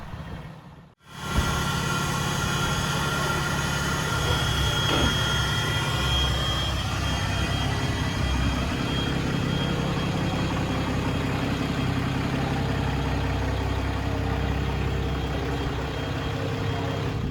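A 6.7 Cummins diesel truck engine fitted with a DPS Add-A-Turbo compound turbo kit starts up, then idles with a deep, steady rumble and a faint high whine layered over it, close and continuous.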